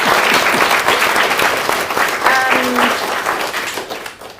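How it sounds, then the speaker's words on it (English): A room full of conference attendees applauds a discussion panel, with dense, steady clapping that stays loud throughout and tails off slightly at the end, along with a brief tonal sound partway through. "Let's give them an applause."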